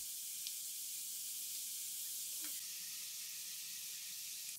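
Ground meat fries in a pan with a soft, even sizzle and hiss that carries on steadily, faint and without talk.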